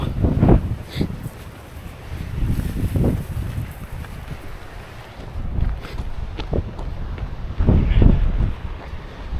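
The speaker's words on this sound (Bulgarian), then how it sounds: "Ега ти вятъра." Strong wind buffets the microphone on a seaside mountain trail during a 42 km run, coming in loud irregular gusts over a constant rushing background.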